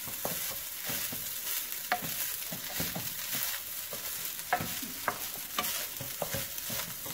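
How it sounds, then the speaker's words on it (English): Egg fried rice tossed and stirred in a hot pan, a steady sizzle broken by repeated scraping clacks of the spatula against the metal at an uneven rhythm, close up with no voices. "Mix it very, very well so that the rice will change a little bit of color and become more golden brown"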